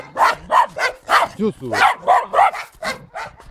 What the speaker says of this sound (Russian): Собаки бегают.